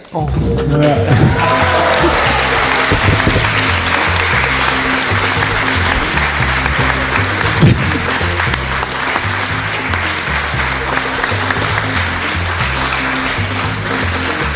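A studio audience claps steadily, dense sustained applause that carries on for the whole stretch, with a voice talking briefly over it at the start.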